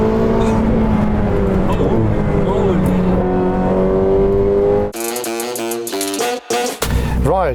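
A Ferrari supercar rated at 802 horsepower revs loudly, its engine note climbing and wavering for about five seconds. An abrupt cut follows, then a shorter, choppier burst of sound.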